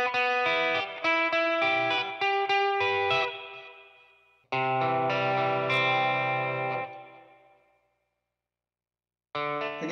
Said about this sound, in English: We're gonna throw a spring reverb on that, just to wash the whole thing in some 1960s electronic goodness.